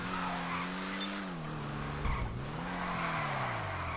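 A Lampadati Viseris sports car in a racing video game slides through corners with long wavering tire squeals over a steady engine note, and a brief thump partway through.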